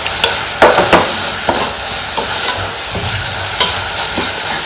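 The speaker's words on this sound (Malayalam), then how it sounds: "സവാള ഒരു ബ്രൗൺ കളർ ആവുന്നവരെ നമുക്കൊന്ന് സോട്ട് ചെയ്തിട്ട്" Sliced onions sizzle steadily in a hot pan for paneer biryani, with a spatula stirring and scraping in irregular close knocks over the constant frying hiss; no voices.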